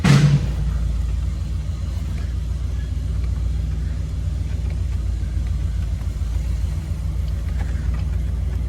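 A 1975 Buick LeSabre with a 350 engine idling steadily close by, a low continuous rumble that stays even and relatively quiet throughout.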